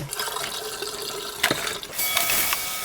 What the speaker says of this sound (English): so do I just keep rinsing it?